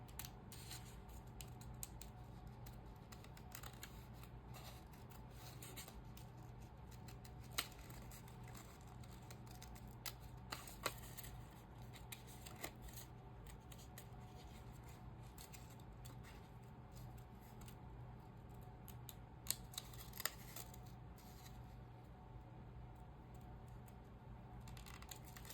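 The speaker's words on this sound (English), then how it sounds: "So we're just going to cut out our bowl." Scissors cut out a paper bowl for a summer vegetable junk journal collage: soft, irregular snips and paper rustles close by, with occasional sharper clicks of the blades over a low steady hum, and no talking.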